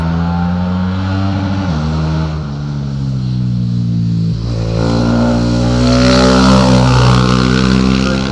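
A BMW 450 supermoto motorcycle races up a hillclimb course, its loud single-cylinder engine revving hard through gear changes, the pitch dropping at each shift and then climbing again as it pulls away.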